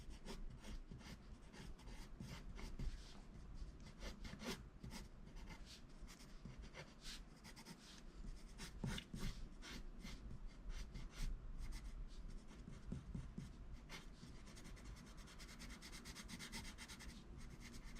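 A Staedtler Mars HB graphite pencil scratches across paper, laying down a dark line with light pressure. The dry rasping strokes come in quick, close, continuous succession, heard up close with no talking.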